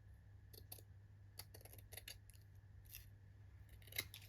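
Scissors trimming a paper craft tag close up, a quiet series of crisp snips and clicks in irregular bursts over a low steady hum.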